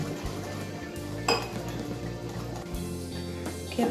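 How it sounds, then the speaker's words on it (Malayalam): A whisk beats Oreo cake batter in a bowl, with quick rhythmic metallic clinks and taps against the bowl's sides, close and fairly quiet. "ഇതൊന്ന് അത്യാവശ്യം നന്നായിട്ട് കുറച്ച് നേരം ഒന്ന് നമ്മൾ വിസ്ക് വെച്ച് മിക്സ് ചെയ്ത്"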